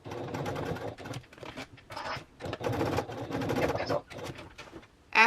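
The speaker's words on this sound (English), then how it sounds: "when we get to the sewing machine, we are going to stitch at the 1-inch line here" A sewing machine stitches a connector onto a travel bag in short whirring bursts separated by brief pauses, close by.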